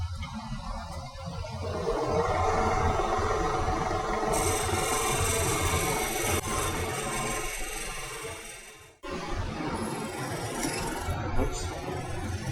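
Close, continuous rubbing friction of wire or wood pressed against a spinning piece on a wood lathe to burn a line into a turned toothpick box, with a brief drop in the middle before the rough scraping resumes.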